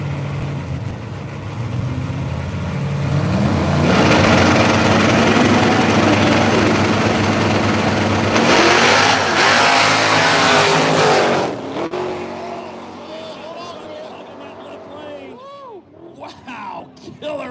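No-prep drag racing at Hill KD Motorsports Park, with a Ford Falcon in the right lane and an '88 Ford Mustang in the left, brings a loud, sustained engine roar that surges and then fades away down the strip.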